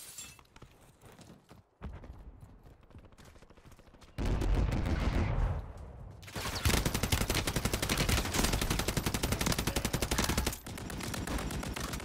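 Rapid video game gunfire rings out in loud sustained bursts, sounding close, with a quieter stretch before the shooting intensifies and runs on almost continuously.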